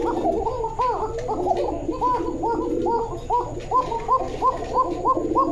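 A pair of pigeons at a farm coo close and steady in a continuous run of rhythmic throaty calls, layered and repeating with no pause.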